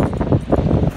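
Strong wind from Hurricane Michael on the Florida coast buffets a microphone in a loud, continuous rumbling roar with gusty surges throughout.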